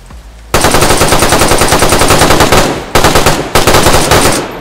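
Rapid automatic gunfire in the survival shooter DayZ, loud and close, a sustained burst of repeated shots broken by two brief pauses before resuming.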